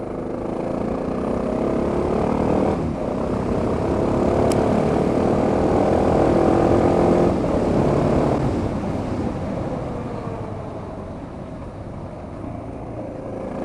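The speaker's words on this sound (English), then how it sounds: "You just turn that throttle and away it bloody goes." A Suzuki DR650 motorcycle accelerates hard, its engine a loud, continuous close roar that swells and eases over several seconds, with wind noise and no talking.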